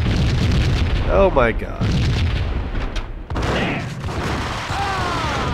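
Explosions in the video game Max Payne, booming blasts and rumbling debris in a hotel, mixed with game effects while a player speaks over them.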